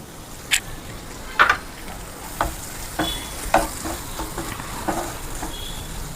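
Bitter gourd pieces with chili powder fry and are stirred in a pan, a continuous close sizzle punctuated by a series of sharp spatula scrapes and taps at irregular intervals.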